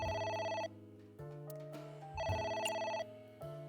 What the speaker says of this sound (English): Another phone call. It's ringing again.